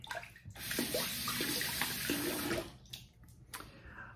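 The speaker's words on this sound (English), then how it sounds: "rinse my hands off here." Running tap water splashes over hands being rinsed at a bathroom sink during a wet shave routine, a close, steady hiss for about two seconds before the flow stops and a few faint drips and handling sounds follow.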